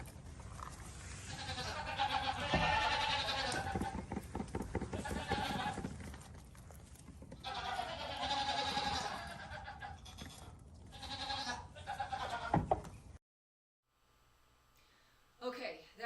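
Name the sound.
baby goats bleating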